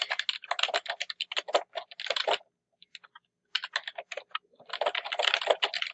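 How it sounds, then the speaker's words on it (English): Rapid bursts of typing on a computer keyboard, clattering keystrokes in quick runs broken by a brief pause, close and clear with no talking. "I don't type and talk well at the same time"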